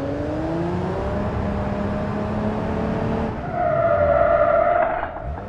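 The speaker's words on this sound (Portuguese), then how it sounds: "que cantada de pneu linda" A Jeep in BeamNG.drive squeals its tires in long, loud, tonal skids alongside engine noise, and the screech rises sharply near the end before fading.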